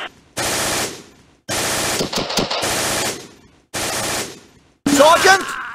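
Heavy gunfire in a Close Combat battle: long sustained bursts of machine-gun fire, loud and close, broken by short pauses, with a final burst overlapped by a shouting voice.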